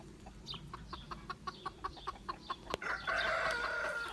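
A rooster crows among a flock of chickens on a French poultry farm with white black-tailed Chabo bantams, opening with a run of evenly spaced clucks before a loud, sustained crow rings out near the end.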